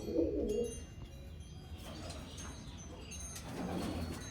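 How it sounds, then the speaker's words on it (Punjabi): Pigeons kept in a loft coo softly, a low murmuring burst near the start and another toward the end, over a steady background hum with faint chirps. "ਇੱਧਰ ਬੈਠੇ ਆ ਕਬੂਤਰ ਆ ਕਬੂਤਰ"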